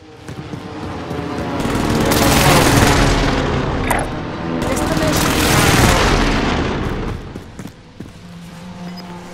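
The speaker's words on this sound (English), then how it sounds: "Allied precision airstrike incoming." Airstrike explosions in Call of Duty roll in as two long, heavy booming blasts, loud and close, with game sounds scattered around them.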